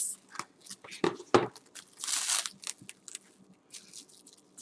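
Knife cutting through a key lime pie, giving close crunchy, crinkling bursts of crust and packaging, loudest in the middle, with faint background noise between cuts.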